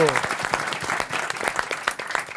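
Scattered clapping fills a radio studio after a correct answer on a French quiz show, sharp individual claps in an uneven patter with voices talking over them.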